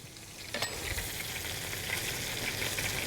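Steady crackling sizzle of mashed potato tacos frying in a hot pan, continuous and close, with a brief clank near the start.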